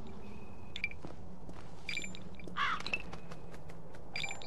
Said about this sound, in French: Avec mon radar qui s'est remis à biper.